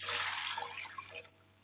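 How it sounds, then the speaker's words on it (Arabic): Water pours into a pot of soaked chickpeas and meat in a home kitchen, a steady rushing splash that gradually thins and fades, with no voices. "واضيف الماي"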